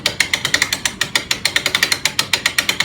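A hand brake winch ratchet cranked by hand gives a rapid, even run of sharp clicks, close and loud with no talk.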